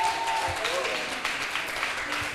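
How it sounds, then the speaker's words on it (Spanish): A gathering at a religious foundation event applauds for Jesus Christ, moderately loud scattered clapping from a crowd, with some voices mixed in underneath. "Un aplauso a Jesucristo."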